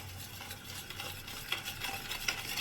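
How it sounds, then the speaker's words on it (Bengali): Coffee powder being stirred into chocolate ganache, heard as a soft, continuous scraping and swishing of a utensil through the thick mixture, close but quiet, with no talk. "এবার পুরোটা ভালো করে মিশিয়ে নেওয়া হবে"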